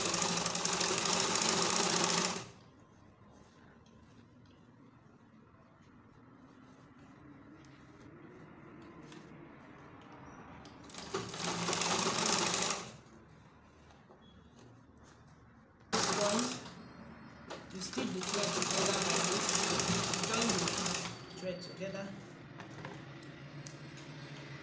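Sewing machine stitching elastic into the waistband of a gathered skirt, with loud, rapid mechanical stitching in three bursts separated by quieter pauses.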